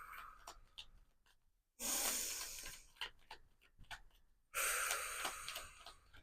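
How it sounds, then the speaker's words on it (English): Slow, deep breaths, with two long, airy exhalations and quieter inhalations and soft ticks between them, close and intimate with no speech. "Take a breath."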